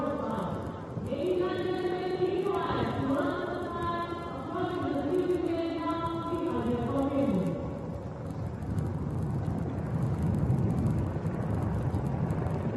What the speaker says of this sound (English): Apache helicopter victory formation में कर्तव्य पथ के ऊपर पहुंचते हुए